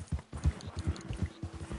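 Horse hooves clip-clop steadily in Red Dead Redemption 2, a close, regular gallop-like rhythm of low thuds about four beats per second over a faint background hum, with no talking.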